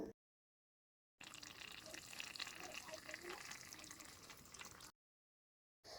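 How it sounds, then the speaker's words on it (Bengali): Cauliflower and hilsa fish curry simmers in a pan in a tiny kitchen as coriander leaves go in, a steady close bubbling hiss lasting several seconds between brief silences. "এখন আমি লাস্টে একটু ধনিয়া পাতা দিয়ে আর একটু জাল করে নেব।"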